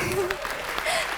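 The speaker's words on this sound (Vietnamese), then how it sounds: "Xin quý vị cho con một tràng pháo tay" Audience applause at a Vietnamese televised stage performance show, a dense rustling clatter heard under a voice and faint tonal sounds, steady and moderately loud throughout.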